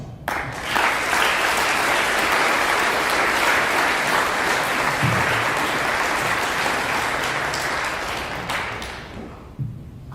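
Sustained loud applause from a high school assembly audience honoring veterans, dense clapping filling the hall for about nine seconds before tapering off near the end.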